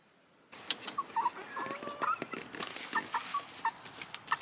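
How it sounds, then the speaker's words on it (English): Backyard chickens, including fluffy black birds, clucking and chirping in short bursts close by, with small scattered calls over a steady outdoor background. "I'm gonna go show you my chickens."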